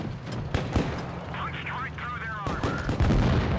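A Pz IIg tank fires its gun in a tank battle video game, giving several sharp cannon shots and booms against engine rumble and game sound effects, with someone talking over them.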